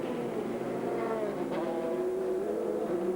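A race car from the 2001 American Le Mans Series, the number 50 car with mechanical trouble, drives out with a steady, loud engine drone and a gently shifting pitch, heard alone and close.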